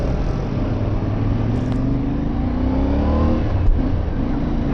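A CF Moto 450MT motorcycle with a 270-degree crank idles with a steady, throbbing rumble, revving up slightly near the end, close and loud throughout.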